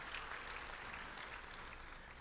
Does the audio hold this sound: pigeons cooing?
no